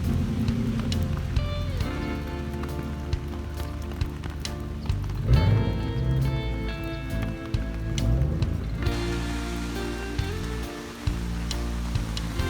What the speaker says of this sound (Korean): 하늘에 구멍이 뚫린 것처럼 비가 쏟아집니다.